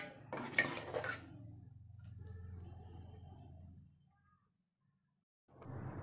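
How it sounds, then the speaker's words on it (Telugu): Rice and jaggery stirred in a pot, a few sharp metallic clanks of the spoon followed by a softer scraping stir that fades to silence before more clatter returns. "ఇలా తిప్పుకుంటూ ఉండాలండి బెల్లం కరిగే వరకు"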